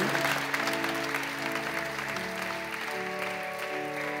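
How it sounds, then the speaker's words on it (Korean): Audience applause at a Korean church elder installation service, a steady wash of clapping throughout, with organ or keyboard music sounding underneath. "큰 박수로 축하해 주시기 바랍니다"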